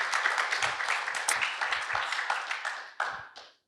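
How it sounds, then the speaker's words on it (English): Scattered audience clapping after a live performance at a panel on writing music for video games; moderately loud, several hands in a brisk patter that thins and fades out at the end. "please, round of applause for that fantastic performance"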